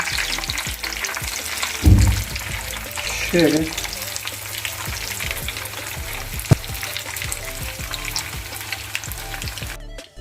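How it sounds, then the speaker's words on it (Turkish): Oil sizzles and crackles steadily as oyster mushrooms deep-fry, with occasional clinks and scraping of a utensil; a voice briefly speaks. "bol yağın içinde Arka önünü kızartıyorum. Aynı balık kızartıyor gibi."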